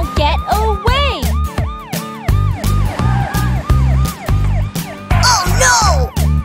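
Police car siren in a children's nursery-rhyme song, a loud wailing two-tone siren sweeping up and down repeatedly over a bouncy musical backing with steady beats, continuing throughout.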